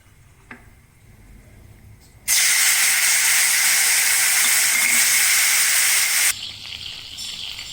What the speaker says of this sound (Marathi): हे जे चिंचेचं पाणी आहे ते मी फोडणीमध्येच घालणार आहे.